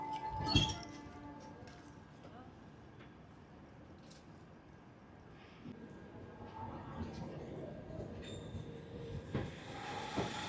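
In Ludhiana, a blue train passes a red train with a steady rolling roar and a sharp metallic clank near the start, building louder toward the end.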